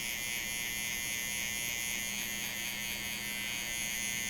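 An electric hair trimmer buzzes steadily and close up while cutting a skin fade haircut, a continuous high whine with no pauses and no talk.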